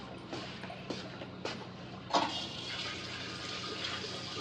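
Water poured out as an offering during the Akti Tihar festival: a steady rushing pour swells in after a few faint knocks and carries on close and fairly loud to the end.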